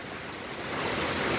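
Dense, steady roar of heavy rain mixed with gusting wind during a typhoon in Iloilo City, loud and continuous, swelling slightly toward the end with no voices.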